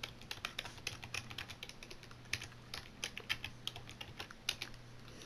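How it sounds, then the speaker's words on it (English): A password being typed on a computer keyboard, a close run of irregular soft key clicks with a few sharper taps, over a faint background hum. "And I'll type in my password."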